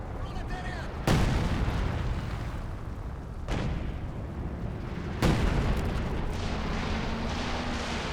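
Artillery barrage in Company of Heroes 2: three heavy booming impacts roughly two seconds apart, each with a long rumbling decay, over a constant low battlefield din.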